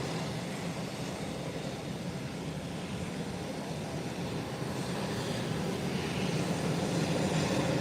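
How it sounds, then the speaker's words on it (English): A Beechcraft 1900 turboprop taxiing out at a busy airstrip gives a steady, broad engine rumble and roar at moderate distance, unchanging throughout with no voices. "let's look at this Beechcraft 1900 taxiing out"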